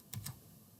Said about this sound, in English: So I then entered my email address, and I'll click enter.